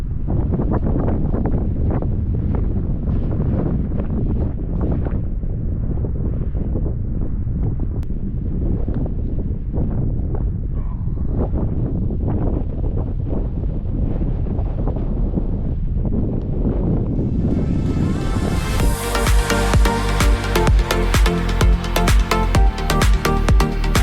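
Strong wind buffets the microphone on an open golf course in West Texas, a loud continuous rumble and roar throughout, with a harsher gusty burst near the end.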